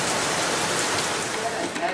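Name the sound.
rain from ex-tropical cyclone Debbie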